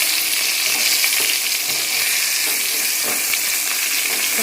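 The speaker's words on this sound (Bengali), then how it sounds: "তরকারিটা এখন ফুটছে," Vegetable curry with pointed gourd cooking in a pan, a loud, dense sizzle and bubbling that holds steady from start to finish, with no voices.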